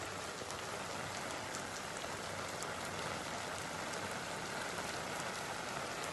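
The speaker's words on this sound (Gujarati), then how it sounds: "આજે બનાસકાંઠાના સુઈગામ, થરાદ, દિયોદર સહિતના વિસ્તારમાં ધોધમાર વરસાદ વરસવાનો શરૂ થયો છે" Heavy downpour pours steadily over Banaskantha district villages such as Suigam, Tharad and Deodar, a dense, even hiss of rain on surfaces with no voices, constant in loudness from start to end.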